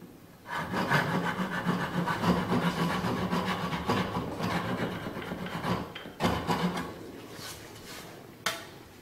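Rhythmic back-and-forth handsaw strokes cutting a guide line into a wooden stool corner, close up and steady, with a short pause before the strokes resume and a sharp knock near the end.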